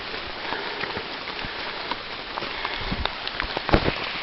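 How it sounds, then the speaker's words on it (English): Steady rain falls on a hiking trail, a dense patter of drops with a few louder splashes nearby. No voices are heard. "the rain slacked off a little bit now"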